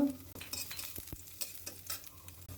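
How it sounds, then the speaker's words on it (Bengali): Chopped ginger and garlic sizzle steadily in hot oil in a pan, with a few sharper scraping stirs cutting through the frying hiss. "একটু ভেজে নেব যেন কাঁচা গন্ধটা না থাকে।"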